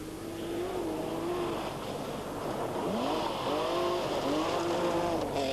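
A Toyota Supra rally car races along a stage at the 1987 Olympus Rally, its engine note rising and falling through gear changes, fairly close and loud over steady crowd and wind noise, with no talk.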